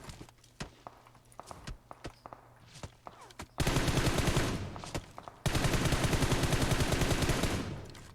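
Video game gunfire from an enemy firing off a rooftop: scattered single shots at first, then two long bursts of rapid automatic fire, close and loud, with no talk.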